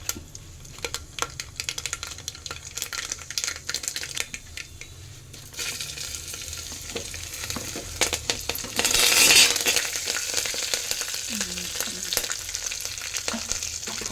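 Mustard seeds, cumin, chillies and curry leaves frying in hot oil for tamarind rasam, a crackling sizzle with scattered pops and clinks, swelling into a louder hiss midway as leaves hit the oil.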